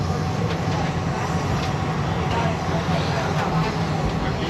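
Steady rumble of a train ride with continuous wheel and carriage noise, moderately loud, while a voice talks over it in places.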